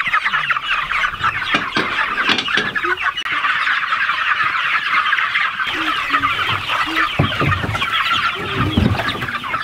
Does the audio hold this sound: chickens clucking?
yes